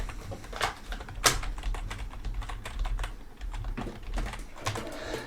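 Someone types an email address on a computer keyboard, giving quick, irregular clicks and key taps close up with a few sharper strikes among them.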